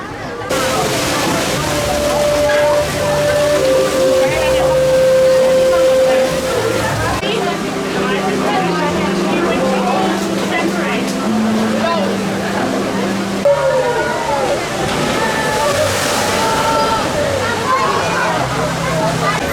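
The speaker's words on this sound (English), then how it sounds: "Such a fantastic log flume." At Legoland Billund, a log flume ride gives a loud, continuous rush and splash of churning water. Close-up and steady throughout, with people talking and shouting over it.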